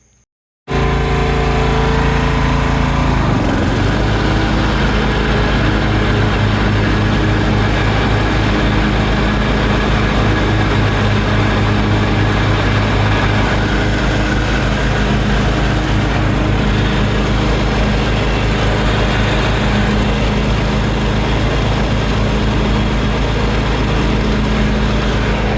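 A riding lawn mower's engine, its cutting deck newly fitted, runs for a test cut: a loud, steady, close drone that starts abruptly after a brief silence and holds at an even pitch to the end, with no voices.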